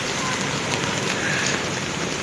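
Steady rain pours down on a narrow residential street, a dense even hiss with no distinct drops standing out, close and moderately loud throughout.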